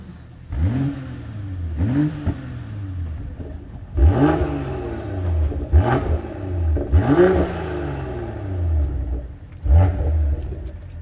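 BMW E60 engine and exhaust revving in a series of about six sharp, loud throttle blips that rise and fall, close by, with idle rumble between them.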